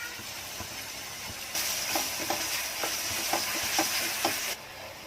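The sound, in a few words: frying masala spice mix for egg curry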